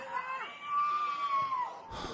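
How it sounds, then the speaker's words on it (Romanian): People scream at some distance from an explosion accident at Crevedia, Romania, a sustained high, wavering cry rising and falling for about two seconds before it breaks off. "cei care strigă aici sunt cei care sunt la ceva distanță de accident și poate evacuați chiar de acolo"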